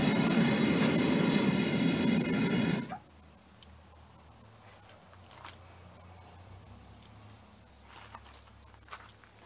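Homemade propane gas forge burner roaring loud and broadband for about three seconds, then cut off abruptly, leaving quiet background with faint scattered clicks.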